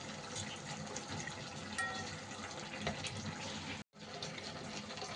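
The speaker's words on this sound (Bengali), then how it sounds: "এই ডালটাকে বেশ কয়েকবার জল পাল্টে খুব ভালো করে ধুয়ে নিতে হবে।" About 50 grams of red lentils are washed under running water, giving a steady, close rushing and splashing of water that runs continuously with one brief cut near the end.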